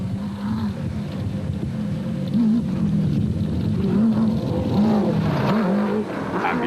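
Off-road racing car engine from the TTR Racing Jimco, droning steadily with rising and falling pitch changes, fairly close and loud over rough background noise.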